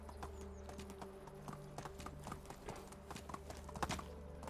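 A horse gallops in Medieval Dynasty, a rapid, rhythmic clip-clop of hooves over a steady background hum, fairly faint, with no talking.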